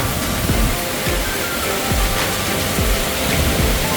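The waterfall at Nong Wai dam in Nam Phong, Khon Kaen, sends water rushing down in a steady, loud, broadband roar, with faint splashing and no voices.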